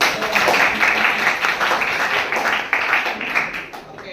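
A class of students claps in a madrasa classroom at MAN 2 Pontianak, a loud burst of hand clapping with uneven, rhythmic accents that swells and dips across several seconds.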